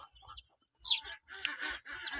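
Young Barred Plymouth Rock laying-hen chicks, about four days old, are kept outdoors with a gamecock hen. They give a few close, bright peeps and clucks in short bursts with quiet gaps between them.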